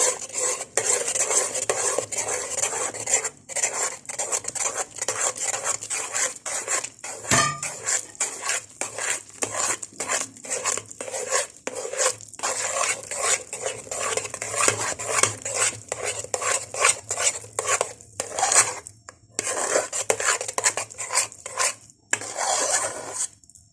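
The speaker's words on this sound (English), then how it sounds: "I'm going to add 250 grams of flour and I'm going to mix it" A spoon mixes 250 grams of flour into a pot of hot liquid for cheese ball dough, making rapid rhythmic scraping and clattering against the metal, close and steady throughout with short pauses, no one speaking.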